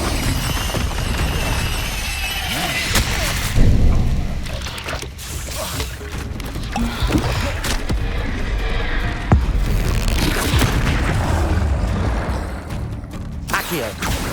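Hogwarts Legacy combat with Confringo blasting spells: loud, dense booms and crackling impacts over a steady roar, with several heavier thumps standing out across the stretch.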